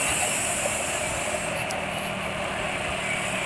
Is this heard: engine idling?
yes